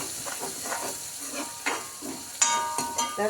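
Crushed ingredients for rasam sauté in a hot pan with a steady sizzle and hiss, broken by bursts of stirring and scraping against the pan, close by and loud.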